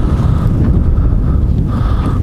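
Loud, steady wind roars into the microphone out on open water beside a boat where a cast net is being thrown, a continuous low rumble with no talk.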